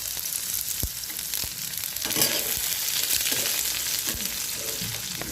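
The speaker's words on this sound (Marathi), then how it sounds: "तेल गरम झालेलं आहे, हे 5 पुरण टाकते। थोडंसं कांदा टाकते।" Onion and five-spice mix hiss and crackle in hot oil, a bright steady sizzle with a few knocks of a spoon against the pan, close up and with no talking.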